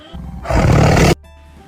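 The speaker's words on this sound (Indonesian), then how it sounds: "Harimau itu juga sangat terkejut dan tidak tahu mengapa ia tiba-tiba mengaum sekeras itu." A tiger in a fable setting roars loudly at a pond's edge, one sustained roar that swells and cuts off abruptly, standing alone over a faint background.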